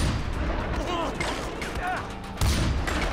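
Gunfire in the game Far Cry 4 crackles as a fusillade of shots under a voice, ending in a louder, sharper burst near the close.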